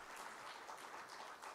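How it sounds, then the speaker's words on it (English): Applause from an audience at a defense industry expo in Pune, heard as a soft, distant, continuous patter of clapping without any voices. "another big round of applause for the defense fraternity"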